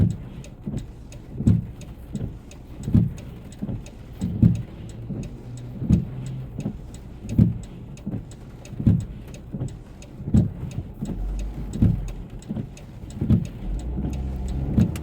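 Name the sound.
cars driving past on a wet road in rain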